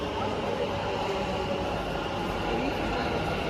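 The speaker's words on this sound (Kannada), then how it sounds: "ಇವಾಗ ಮೆಜೆಸ್ಟಿಕ್ಕಿಂದ ಮತ್ತೆ ಇನ್ನೊಂದು ಟ್ರೈನ್ ಹತ್ಬೇಕಪ್ಪ" Metro train rumble on the underground line at Majestic station in Bengaluru, a steady close hum and roar throughout, with voices faintly mixed in.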